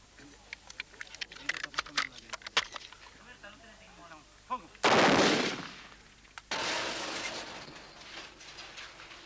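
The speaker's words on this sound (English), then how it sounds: "Then the older boys, 12-year-olds, demonstrated their skill with automatic rifles." Automatic rifle bursts from 12-year-old boys demonstrating shooting in East Timor in 1975, a rapid string of sharp cracks early on, then a long loud rushing blast and sustained roar, with voices in the background.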